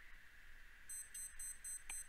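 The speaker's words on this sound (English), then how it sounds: "That's the timer" A countdown timer in the survival video game Unturned beeps in a quick, steady run of short, high electronic tones, fairly quiet against a constant background hum.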